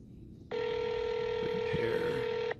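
One long electronic telephone ring tone on a call to a phone repair shop, steady and sustained for about two seconds, starting and stopping abruptly over a quiet background.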